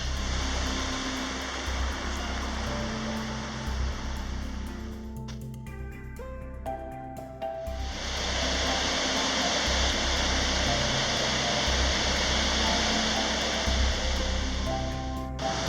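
Drake Falls, one of the waterfalls at Silver Falls, roars as a steady broadband rush of falling water, loud and continuous, with a brief dip midway where other low tones and faint sounds show before the roar returns.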